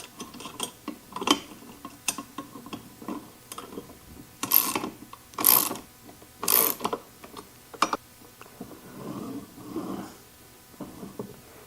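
The pivot bolt on a Sabretooth ProSetter blade setter is being tightened, producing a series of close, clicky ratcheting and metallic ticks with a few sharper, louder clacks in the middle, and no talking.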